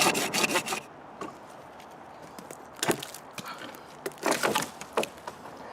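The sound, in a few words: folding saw cutting fatwood near the base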